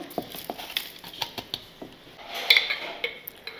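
Jaggery powder tipped into a bowl for calcium laddu gives a scatter of light patters and small clinks against the dish, several soft taps spread over a few seconds with a brief rustling burst near the middle, close and fairly quiet.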